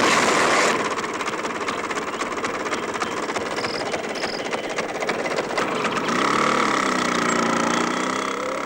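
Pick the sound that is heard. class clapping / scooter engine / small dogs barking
scooter engine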